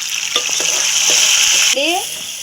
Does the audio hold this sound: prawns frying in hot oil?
yes